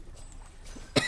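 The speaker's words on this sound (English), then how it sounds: "I'm sorry, I'm coughing." A single sharp cough bursts out near the end, loud and close, following a stretch of quiet room tone with no talking.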